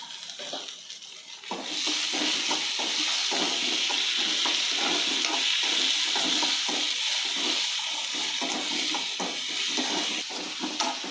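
Chopped tomatoes drop into a pan of onions and curry leaves, and a loud, even sizzle swells up at once and carries on steadily with soft stirring ticks, close by and without talk.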